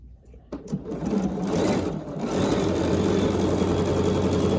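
A Bernina 770QE sewing machine stitching a quarter-inch seam starts with a click and a brief whir, then settles into fast, steady, loud mechanical stitching with no voices.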